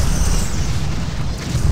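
Starship explosion in the Star Trek Bridge Commander space combat game, a loud, sustained, rumbling blast of dense low roar and crackling noise that fills the whole moment without pause.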